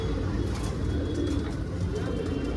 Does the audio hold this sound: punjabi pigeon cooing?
yes